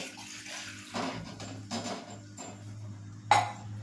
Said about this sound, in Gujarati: તેમાં હું એક ગ્લાસ પાણી એડ કરીશ